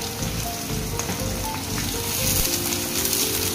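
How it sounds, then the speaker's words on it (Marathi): Onion fries in a pan with a dense, steady sizzle that crackles like rain, close and even throughout. "फक्त फ्राय करायचा आहे कांदा."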